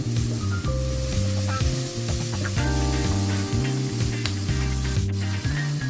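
Vegetable pieces and rice frying in a pan for veg fried rice, a loud, steady sizzle running throughout, with a repeating mechanical pulsing layered over it and no voices.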